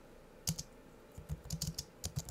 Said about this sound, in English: So you just start typing.